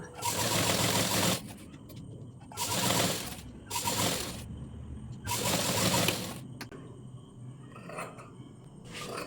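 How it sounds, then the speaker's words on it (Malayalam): A domestic sewing machine stitches blouse fabric in several loud, whirring bursts of rapid mechanical clatter, with short pauses between runs. "ആ ഒരു പീസിലേക്ക് മെയിൻ ക്ലോത്ത് ഇതുപോലെ പതിച്ച് സ്റ്റിച്ച് ചെയ്യുക"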